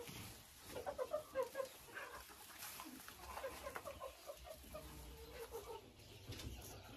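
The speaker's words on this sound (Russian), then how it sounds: "Курочка Марана, которая несет огромное шоколадное яйцо." Marans hens clucking quietly in a farm coop, soft intermittent clucks in short bursts against low background noise.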